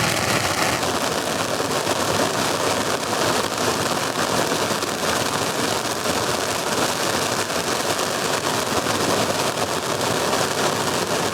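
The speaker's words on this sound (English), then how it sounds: "It's pretty rainy." Heavy rain falling outside a sailboat, a dense continuous hiss and patter of drops on the surfaces, steady and loud throughout with no voices.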